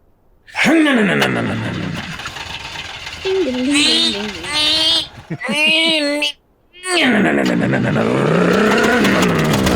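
A voice mimics a revving car engine, rising and falling through several loud bursts of vroom-like wailing with short breaks between them, close up and with no other sound behind it.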